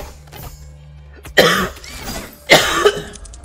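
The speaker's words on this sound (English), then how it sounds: "I coughed in your ear." Two harsh, close coughs about a second apart, each a sharp burst with a short rasping tail, loud over quiet background with no words spoken.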